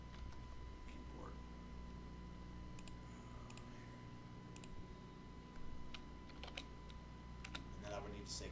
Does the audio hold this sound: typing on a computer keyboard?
yes